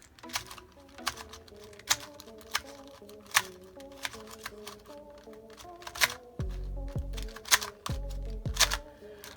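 A Gan 251 M speed cube turned quickly by hand, a steady run of sharp plastic clicks and clacks in rapid bursts, close and clear, with a few heavier thumping turns near the end.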